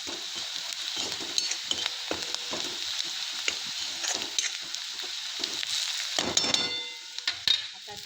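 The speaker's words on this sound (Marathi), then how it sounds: "गुलाबी कलरवर झाला तो कांदा चांगला तेलामध्ये होऊ द्यायचा" Onion frying in oil in a home kitchen pan, a constant hissing sizzle with scattered sharp pops and occasional stirring clatter, close and steady.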